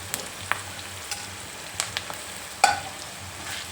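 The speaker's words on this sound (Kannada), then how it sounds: "ಇವಾಗ ನಾನು ಒಂದು ಮಾವಿನಕಾಯಿ ತುರಿದು ಇಟ್ಕೊಂಡಿದ್ನಲ್ಲ, ನಾನು ಇದನ್ನು ಅದಕ್ಕೆ ಸೇರಿಸ್ತೀನಿ. ಯಾಕೆಂದರೆ ಈರುಳ್ಳಿ ಜೊತೆ ಅದು ಬೆಂದ್ಕೊಳ್ಳುತ್ತೆ" Grated raw mango with onions in a pan for mango chitranna, a low steady sizzle broken by a handful of sharp spatula scrapes and clicks, quiet and close.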